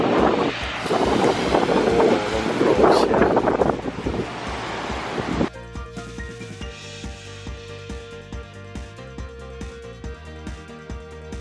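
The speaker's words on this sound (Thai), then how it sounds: "โอ้ลมแรงมากน้องหมาผมสั่นเลยนะฮะก็จะพาเขาออกมาวิ่งนะฮะเดี๋ยวให้ดูคลื่นนะฮะ คลื่นยังลูกใหญ่อยู่เลยนะครับ" Strong sea wind roars at Cha-am beach on the Thai coast with large waves surging, loud and broadband for about five seconds before a sudden cut to steady, quieter tonal background sound.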